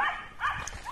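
Dogs around a home yard give a quick run of close, sharp barks and yips in about a second.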